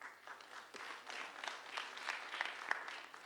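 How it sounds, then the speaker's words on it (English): Audience applause at an internet summit, a steady moderate patter of many hands clapping throughout, fairly distant and even with no voices over it. "Round of applause for Chris."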